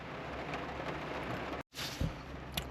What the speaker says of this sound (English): sitting in the car while it pours down with rain